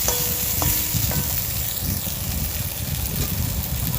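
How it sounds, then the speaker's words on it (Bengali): Steady loud sizzling and bubbling of a thin bata fish curry with green banana and green chili in a pan, with a few scraping stirs of a spoon near the start, continuous throughout. "আমি ঢাকনা তুলে নিয়ে নাড়াচাড়া করে নিয়ে"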